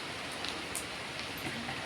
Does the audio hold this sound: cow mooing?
no